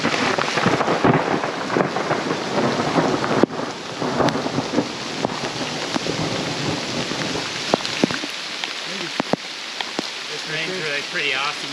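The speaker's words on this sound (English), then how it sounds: "it's starting to rain very hard" Heavy rain pours in a mountain canyon in Arizona's Santa Rita Mountains, a dense steady hiss with occasional thunder rumbles and wind buffeting the microphone, loud and close.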